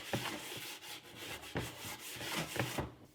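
A Stahlwille socket set case being scrubbed during restoration, with repeated rhythmic brushing strokes, close and steady, each pass a short rasping burst.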